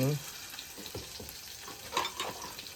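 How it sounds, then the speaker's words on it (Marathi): Chilli tempering (tadka) sizzles in hot oil for a Maharashtrian village-style bombil (Bombay duck) mixed vegetable, a steady close crackle with a few sharper pops and stirring scrapes, no talking. "मिरचीचा तडका दिला तिचा तडका दिला बाई"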